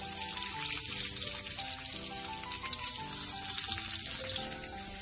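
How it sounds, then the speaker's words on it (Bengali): Egg yolks frying in hot oil give off a steady, bright sizzle that stays even throughout. A soft tonal hum sits underneath, and there is no talking. "এইভাবে কুসুমটা তেলের মধ্যে দিয়ে দিব"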